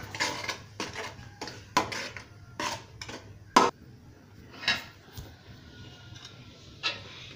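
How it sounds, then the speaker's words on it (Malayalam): A Kerala Onam dish is stirred in a pot with a ladle, making a slow, uneven series of separate scraping knocks and clinks against the metal, close and clear. "ഇളക്കണം ഒരു പത്ത് പതിനഞ്ച് മിനിറ്റെങ്കിലും ഇളക്കേണ്ടി വരും"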